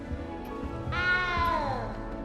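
A cat meows once in Hogwarts Legacy, a single clear drawn-out meow with a falling pitch, close and fairly loud over a low game background.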